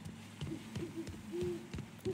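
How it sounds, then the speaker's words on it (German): An owl hoots in the Mafia 3 video game, a few soft, low calls over a steady hum of game ambience. "Oder eine Eule."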